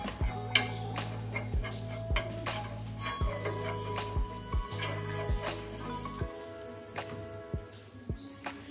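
Moong dal papad roasts with butter on a hot tawa over a low flame, giving a steady soft sizzle broken by regular light taps and scrapes of a utensil against the pan, close and quiet, with no talking.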